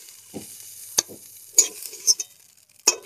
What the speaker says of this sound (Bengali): লাল লাল করে আমি ভেজে নিচ্ছি